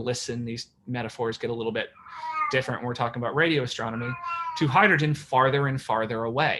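A pet cat meows repeatedly and excitedly, with drawn-out, rising and falling calls mixed in among a person's steady talking, near and fairly loud.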